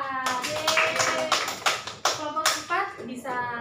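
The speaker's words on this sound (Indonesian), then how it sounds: "Tepuk tangan buat kelompok 4" Classroom of children clapping for a group, a short burst of uneven hand claps with a teacher's voice and children's voices mixed in.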